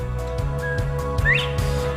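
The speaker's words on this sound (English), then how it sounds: "You can hear the bob white whistle out here outside our yard in our CRP field." A northern bobwhite quail's rising whistle call carries from a CRP grass field beside a rural yard, with brief clear whistles standing out over a steady low hum of background noise.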